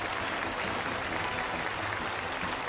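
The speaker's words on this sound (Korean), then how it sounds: "전투원들의 열광의 박수소리가 진감하고" Enthusiastic applause from a large crowd of combatants at a flag-presentation ceremony in a Pyongyang square, a dense, steady roar of clapping that holds without a break from start to end.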